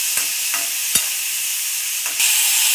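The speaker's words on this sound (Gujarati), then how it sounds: "થોડી વાર માટે આપણે તળવા દઈશું." Raw karamda sambharo (karonda relish) fries in a pan with a constant bright sizzle, punctuated by a few sharp taps of a stirring utensil.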